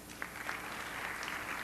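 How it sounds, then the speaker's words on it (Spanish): Applause from a conference audience welcoming a doctor before a health education lecture, a steady, fairly faint wash of claps continuing evenly throughout without any talking. "Les agradezco un aplauso por el doctor Córdoba"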